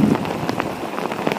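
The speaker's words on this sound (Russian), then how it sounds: "Пошел сильнейший дождина." A downpour drums hard and steadily on nearby surfaces, with individual drops spattering through the constant wash of rain.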